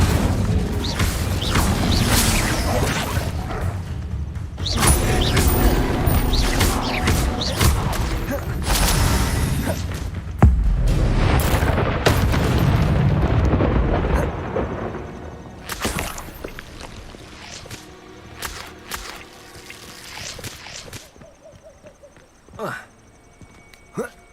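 Incendio fire spell cast during combat in Hogwarts Legacy, with bursts of whooshing blasts and crashing impacts over a dense battle mix. The noise thins to sparser hits toward the end, and a voice speaks throughout.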